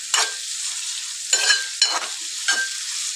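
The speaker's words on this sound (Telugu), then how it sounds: "ఆనియన్స్ వేసినాం కదా, ఒకసారి మనము కలుపుకోవాలి మంచిగా." Onions fry in hot oil for a drumstick tomato curry, a bright sizzle that flares in four bursts as a spoon stirs them, alone without talk.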